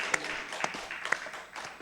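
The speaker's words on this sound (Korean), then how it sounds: "우리 하나님께 영광의 박수를 올려드립니다" A church congregation giving a short burst of applause at a Sunday service: a brief, moderately loud patter of many hands with a few sharp individual claps standing out, close and dense for under two seconds.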